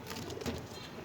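Pigeons coo softly at feeding time, a brief low cooing close by with no talk.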